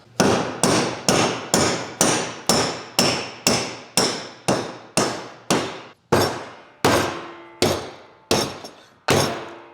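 Steady hammer blows strike a metal spoiler mounted on a work truck, about sixteen sharp, ringing clanks in a fairly even rhythm, close and loud, with a brief pause partway through.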